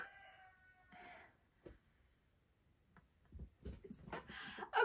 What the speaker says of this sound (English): There was a rooster in my kitchen, but he's not there anymore.